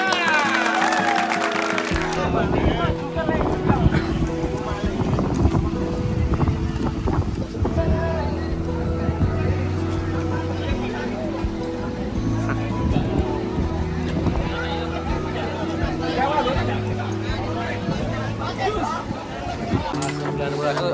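Wind buffets the microphone at Pantai Marina in Ancol, a beach marina with boats, a constant rushing roar under steady chatter and music-like tones from a crowd of people talking nearby.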